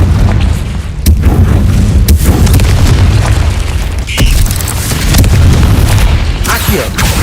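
A Confringo fire spell explodes in Hogwarts Legacy, a loud booming blast inside a cave, followed by several more heavy thuds and bursts over about seven seconds amid a dense game soundtrack.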